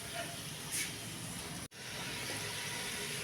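Achar gosht, meat with tomato, fries in a pan with a continuous soft sizzling hiss that briefly cuts out midway before resuming just as steadily.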